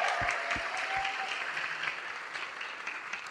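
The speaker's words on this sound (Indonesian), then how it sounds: "Beri tepuk tangan sekali lagi untuk mereka semua" An audience at a youth summit session applauds steadily, a dense sustained wash of many hands clapping throughout.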